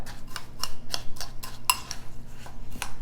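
A small spoon stirs crushed Ritz crackers with melted butter in a bowl, a quick series of light clinks and scrapes against the dish, close and brisk.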